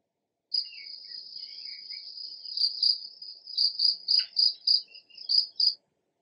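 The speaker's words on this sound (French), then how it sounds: "on écoute la chanson du grillon dans le noir" A cricket chirps steadily at night in a high, shrill trill, growing into repeated louder pulses toward the end, alone with no other sounds.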